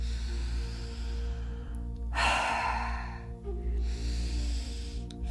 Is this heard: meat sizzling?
no